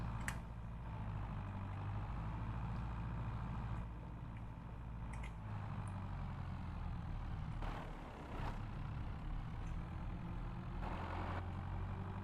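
A Ford 5000 tractor engine in Farming Simulator 22 runs at a steady, low rumbling idle throughout, loud and continuous with a few brief clicks and knocks over it.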